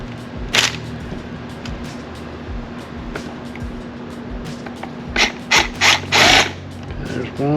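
An impact gun zaps bolts off a Yamaha 115 hp two-stroke outboard. Short loud bursts of rattling hammering come near the start and in a cluster of four at the end, over a steady mechanical hum.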